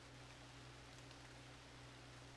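Steady, faint hiss of light rain in an Ace Attorney Investigations scene, an even wash of patter over a low constant hum, unbroken and with no voices.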